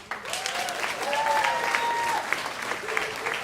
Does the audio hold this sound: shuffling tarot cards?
no